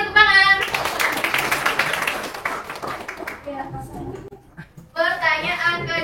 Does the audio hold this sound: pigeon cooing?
no